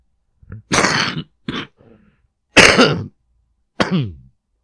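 Several harsh coughs in a quiet room, close and loud, with pauses between them; a softer, brief cough-like sound in the middle.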